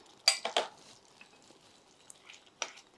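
A spoon scrapes and clinks against a cooking pot while roasted fenugreek powder is stirred into a dish, giving a few close metallic taps early and another near the end, with quiet pauses between.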